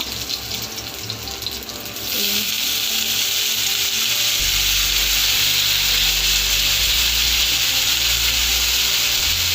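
Dried bay leaf hits hot oil, bursting into a loud, steady sizzle that fills the pan after a quieter start, with the frying hiss continuing close and unbroken, in a chicken curry with banana tree pulp.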